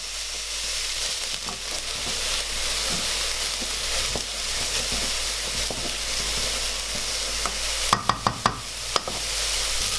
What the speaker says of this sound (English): A little bit of oil in the pan. What I'm going to do is put it on a medium heat, put the onions in a second